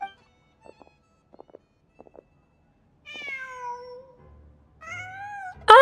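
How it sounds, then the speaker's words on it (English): A cat in the Genshin Impact video game meows in a few clear, drawn-out calls, preceded by soft rhythmic taps, mostly alone with little other sound. "Oh, kitty, look at kitty."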